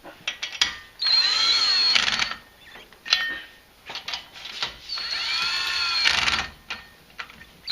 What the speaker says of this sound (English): After you torque them, you want to tighten the rotor back up again.